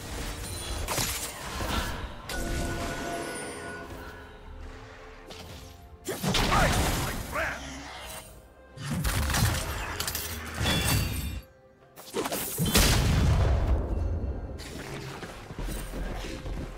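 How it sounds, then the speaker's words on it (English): In a League of Legends match, a turret is destroyed with loud crashing, shattering bursts that come in several waves over busy game effects. "Red team's turret has been destroyed."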